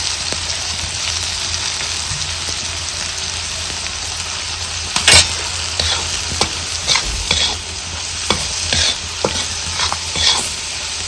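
Masala roasting in a pan for a fresh pavta (lima bean) aamti, a steady loud sizzle with repeated scraping stirs, no voices.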